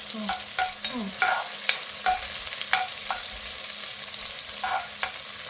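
Onions sautéing in a pan for a South Indian curry, a steady soft frying hiss with a few scattered utensil taps and scrapes throughout.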